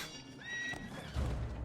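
Horse whinny from Assassin's Creed II, a single rising neigh near and fairly clear, followed by a low thump or hoof sound toward the end, no talk over it.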